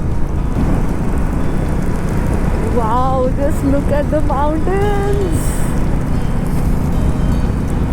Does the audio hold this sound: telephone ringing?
no